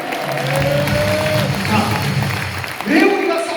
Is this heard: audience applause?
yes